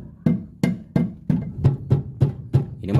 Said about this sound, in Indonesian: Gunakan palu karet ini ya.